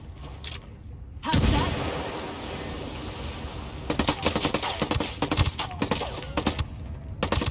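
A frag grenade explosion in Ghost Recon Wildlands: a loud, sudden broadband blast with rumbling decay, followed by a stretch of sharp gunfire bursts and impacts in a game combat scene.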